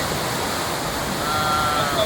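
Thamirabarani river water flowing out into the sea, a dense continuous rushing wash like surf or a waterfall, steady and fairly loud with no pauses.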